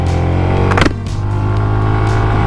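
A Zontes 350E motorcycle engine drones loud and close under full throttle, with a brief surge in the middle before the steady tone carries on.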